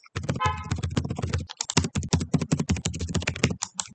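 A username and password are typed on a computer keyboard in a fast, steady patter of close key clicks with a few short pauses between them.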